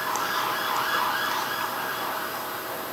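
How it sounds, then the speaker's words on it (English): A police car siren wailing through the streets of Camden, a steady rising-and-falling tone heard from a distance over low traffic rumble, alone without talk. "That's a police siren in Camden."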